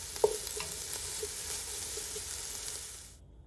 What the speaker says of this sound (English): I'm going to go ahead and add the garlic. And I'm only going to stir this around for about 30 seconds or so